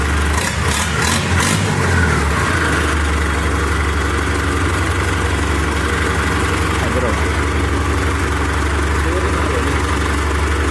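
A tractor engine, with an Arjun 605 mentioned, idles with a steady, heavy low rumble close by. Faint clicks come at the start, and a person talks over it.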